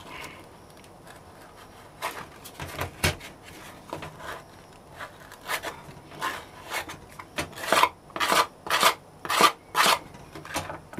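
Filing a hand-poured cast silver Chucky round flat: rasping strokes, sparse at first and then a quicker run of louder, regular strokes near the end, close and alone without talk.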